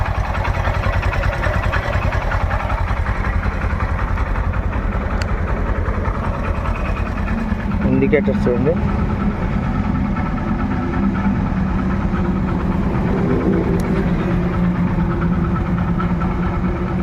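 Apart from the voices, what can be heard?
motorcycle engine idling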